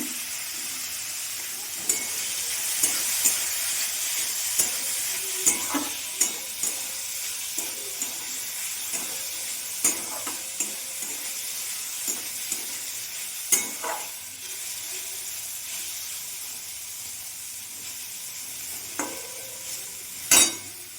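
Mushrooms fry in a pan with turmeric, a continuous sizzle broken by repeated scraping clicks of a spoon stirring at close range, with no voices.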